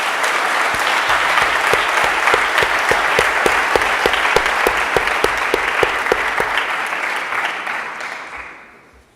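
An audience at a French eloquence contest applauds a speaker with sustained, even clapping from a full room that carries on steadily for several seconds before fading out at the end.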